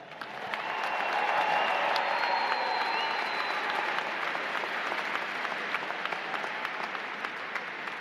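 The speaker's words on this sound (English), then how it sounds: "I would ask that you would give them a round of applause" A large university commencement audience applauds ceremony organizers, sustained dense clapping that swells in the first second and holds steady across the whole span, filling a big hall.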